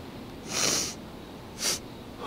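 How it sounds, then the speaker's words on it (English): Two close sniffs at an old military ration candy bar from the 1940s, a longer inhale followed by a shorter one, quiet and near with no talking. "Sniff check."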